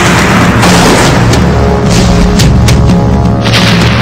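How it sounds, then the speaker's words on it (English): Continuous heavy booming of cannon fire, loud and dense, with repeated deep thuds and sharper blasts layered over a constant roar, no voices. "the German cannons and machine guns began to fire on the Herero"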